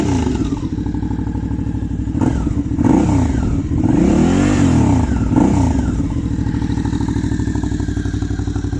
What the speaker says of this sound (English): Fair bit deeper tone with the baffle removed